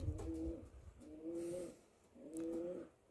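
Racing pigeons coo in three slow, rounded phrases, close by and fairly clear, with a little background noise and no talking.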